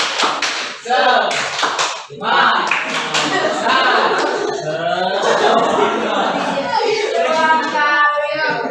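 A school class claps hands in a quick rhythmic pattern of sharp, close claps, mixed with children's chanting voices and chatter that continue after the clapping fades.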